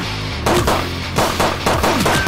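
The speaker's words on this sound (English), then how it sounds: "Oh, the sounds of the gun is so good." Gunfire in the video game Midnight Fight Express, loud close bursts of rapid shots in several rounds with short gaps between them.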